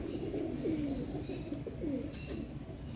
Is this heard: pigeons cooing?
yes